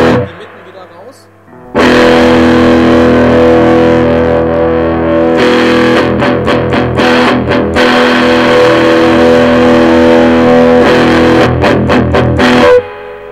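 An electric guitar plays through a Mesa Boogie Recto Verb 25 amplifier, loud and distorted, with sustained chords and choppy muted strums after a brief quieter intro.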